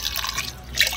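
Very hot water from a rooftop tap splashes and drips close by in a short, steady watery patter, brightening briefly near the end, with no voices.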